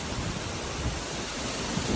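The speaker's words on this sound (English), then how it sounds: "The wind's picking up. We're getting some good gusts right now." Strong hurricane gusts during Hurricane Milton roar across the microphone in a steady, buffeting broadband rush that swells slightly toward the end, with no voices.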